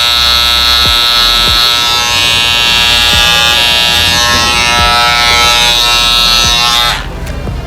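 Electric razor buzzing steadily and loudly up close while trimming coarse hair on the back of a head for a mohawk with a V, with faint clicks through the drone before it cuts off.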